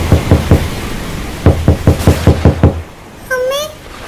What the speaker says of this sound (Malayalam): ഈ സമയത്ത് ആരാണ് വാതിലിന് മുട്ടുന്നത്?